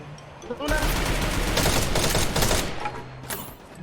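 A loud grenade blast in a mobile battle-royale shooter game erupts into a crackling, rumbling roar lasting a few seconds before fading.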